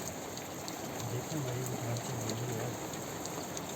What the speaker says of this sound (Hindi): बारिश बड़े ज़ोर शोर से हो रही है